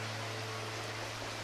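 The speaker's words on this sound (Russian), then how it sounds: "водопад" Small, slender waterfall in a cool gorge near Gabala, a steady, close hiss of rushing water with no pauses.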